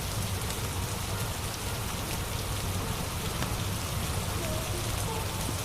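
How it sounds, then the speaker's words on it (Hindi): Steady rain pouring outside a home, a dense, even hiss of drops that stays constant throughout with no breaks. "बाबा, बारिश अभी भी नहीं रुकी।"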